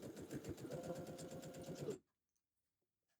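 A sewing machine runs close and fast along a fabric edge for about two seconds, its rapid even needle rhythm stopping abruptly into near silence.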